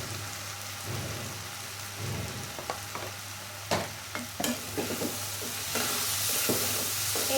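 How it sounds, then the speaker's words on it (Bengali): Spices like coriander powder, salt, turmeric, chili and cumin sizzle in a hot pan with egg and red lentils, close and steady, with scraping stirs and occasional sharp clinks against the pan. "এটা ভালো করে লাড়াচাড়া দিব, কারণ ডিম দেওয়া ডাল দেওয়া রান্না করবো, এটা ভালো করে ভুনা করবো"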